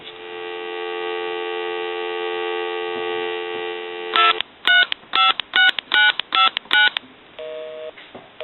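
TA 954 military field telephone, repaired and converted: a steady dial tone hums for about four seconds, then a quick string of short, evenly spaced touch-tone dialing beeps, followed by a faint line tone.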